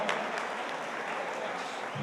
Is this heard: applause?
yes